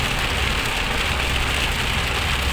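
Heavy storm rain from a typhoon pours steadily in Si Songkhram, Thailand, a dense continuous roar of water drumming on a vehicle with a low engine rumble underneath.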